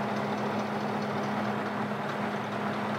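A big old bulldozer engine idles steadily and loudly at close range, a constant low rumbling hum with a knocking pulse and no talk over it.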